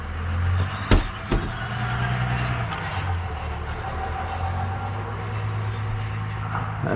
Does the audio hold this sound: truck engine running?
yes